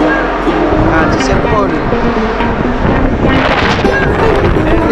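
Strong wind at sea aboard a fishing ship, heavy buffeting gusts roaring across the microphone with a continuous rumble, loud and close throughout, with voices talking underneath.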